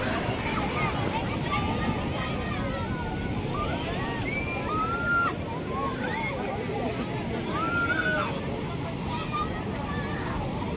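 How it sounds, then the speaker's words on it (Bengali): Large morning sea waves at Digha beach roll in and break in a constant broad roar, with wind buffeting the microphone and gull-like cries or voices rising faintly above the surf. "সকালবেলায় সমুদ্রের ঢেউ কিন্তু অনেক বড় বড় আসছে"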